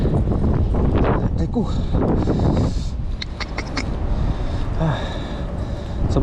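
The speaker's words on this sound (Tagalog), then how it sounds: "Napakalakas po ng hangin." Strong wind blowing outdoors during a fishing outing, a loud continuous rush buffeting the microphone while people talk over it.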